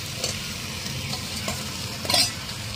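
Vegetable curry with fig and fried potatoes being stir-fried in a pan, a steady close sizzle broken by a few scraping stirs, with one louder burst of spatula scraping near the end; no talking.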